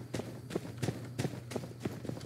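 Camels walk in My Time at Sandrock, a soft, steady clip-clop of footfalls repeating about every third of a second over a low hum, moderately close, with no talking.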